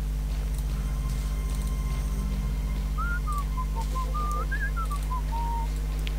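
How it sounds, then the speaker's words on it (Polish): A character in the Robin Hood: Legenda Sherwood video game whistles a short wavering melody of several gliding notes, clear and fairly close, over a steady low game hum with no talking. "Ktoś tutaj pokazał, że umie gwizdać."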